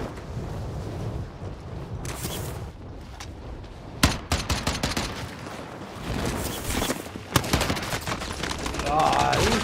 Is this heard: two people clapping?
no